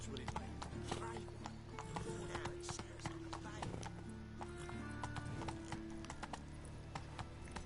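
Roach the horse clip-clops up stone stairs in The Witcher 3, a steady run of close hoof knocks with an occasional snort, while a player talks quietly over the steps.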